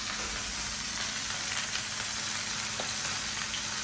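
Continuous crackling sizzle of fish frying in hot oil, steady and close, with a few faint clinks and stirring sounds.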